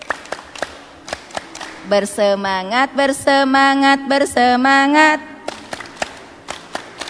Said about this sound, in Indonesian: Oke, 1, 2, 3. Tepuk majelis taklim.